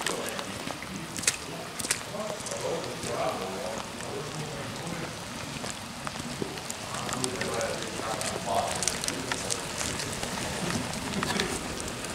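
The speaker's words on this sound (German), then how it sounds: "Also bei uns würde jemand die Feuerwehr rufen, wenn man so ein Feuer machen würde im Garten." An open wood fire burns in a garden under a still for distilling schnapps in Bosnia, giving dense, steady crackling and popping with sharp snaps, with faint voices in the background.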